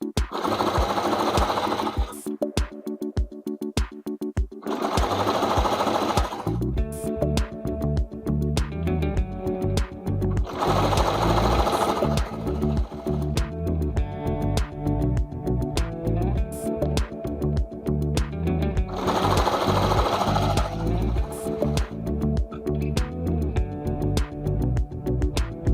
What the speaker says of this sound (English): So I'm just going to go down and sew this guy.